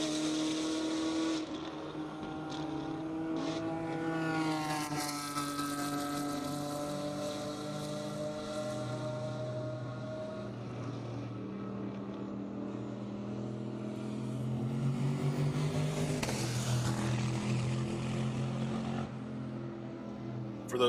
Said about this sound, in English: For those of you that just heard that car fly by, that is Sean Bassett in his 240Z.